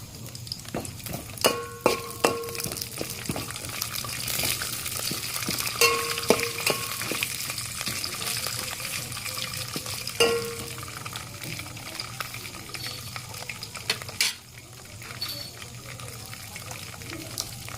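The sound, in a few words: peanuts being roasted in a pan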